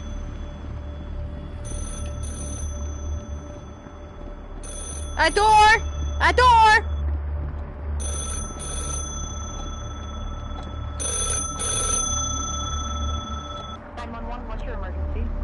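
A telephone rings inside the video game Rec Room in repeated short trilling bursts with pauses between them, while players shout and talk over it.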